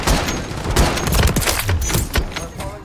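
Rapid, loud, sustained gunfire rattles without pause in a Call of Duty Hardpoint match, dense overlapping shots filling the whole moment.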